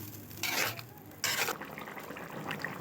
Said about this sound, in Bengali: ভালো করে নাড়াচাড়া দিয়ে কিছুক্ষণ ঢাকা দিয়ে রাখব